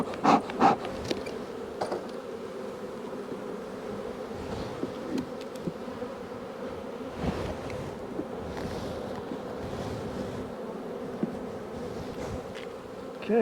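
Honey bees drone steadily inside an opened hive where a good laying queen is kept, a dense continuous buzz close to the microphone, with a few sharper individual passes and light handling knocks.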